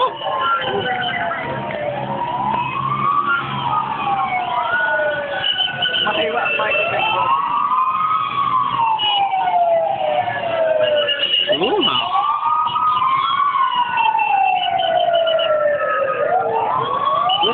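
A wailing fire engine siren rises and falls in long sweeps, loud and continuous, with a second siren overlapping and some background chatter, at a construction site crane collapse.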